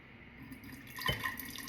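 Nettle tea poured slowly from a French press into a container, a soft trickling and splashing of liquid with a brief louder gush midway, close and quiet with no talking.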